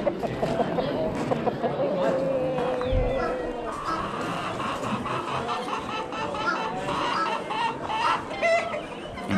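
Chickens and roosters cluck in a busy overlapping chorus at an Amish animal auction, with someone talking over the birds and general crowd noise throughout.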